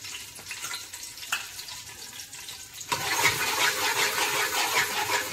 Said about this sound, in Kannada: ಅದಕ್ಕೆ ಎಣ್ಣೆ ಬಿಸಿ ಆಗಬೇಕು ನಾನು ಕೆಂಪು ಮೆಣಸಿನ ಹುಡಿಯನ್ನು ಸ್ವಲ್ಪ ಹಾಕಿದೆ